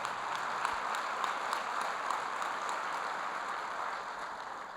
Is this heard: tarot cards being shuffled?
no